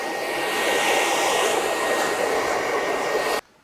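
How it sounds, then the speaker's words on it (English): A hair dryer blows steadily while hair is wrapped around a brush during a men's side-part haircut, a loud, continuous airy roar that runs without a break and then cuts off abruptly near the end. "I'm going to finish and turn the hairdryer the other way, and I'm going to wrap the hair around my brush."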